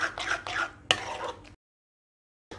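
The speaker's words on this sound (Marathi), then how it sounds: "आपलं सर्व मिश्रण एकजीव करून झालेलं आहे" A spoon stirs thick homemade amrakhand, a mix of mango pulp and curd, in a bowl, giving a quick series of soft scraping, clinking strokes with one sharper knock before the sound cuts to silence.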